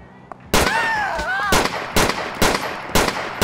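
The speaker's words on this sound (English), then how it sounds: "199 shots fired." Gunfire in the LCPDFR police mod for a video game, played over multiplayer: several loud, sharp shots ring out in an uneven series, with a brief rising electronic tone after the first.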